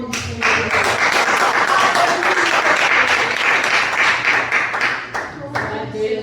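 A church congregation claps hands together in praise during a Sunday service, a full, sustained round of clapping that is loud and dense, with faint voices and a low hum beneath it before it trails off near the end.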